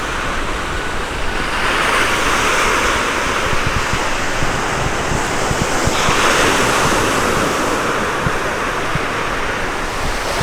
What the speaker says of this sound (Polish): Szum fal tuż tuż.